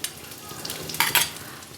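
Garlic hits hot ghee in a pan, giving a soft crackling sizzle with a few brighter bursts of spattering near the end, close and fairly quiet.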